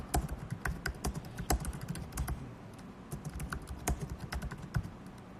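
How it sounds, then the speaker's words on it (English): Someone types on a computer keyboard nearby, irregular bursts of quick key clicks with brief pauses between them, fairly quiet and heard alone. "Let me just type it out first."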